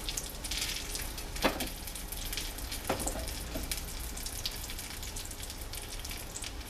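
Pork chops sizzle steadily in a hot pan, a constant crackling hiss with a few sharper pops and spits along the way.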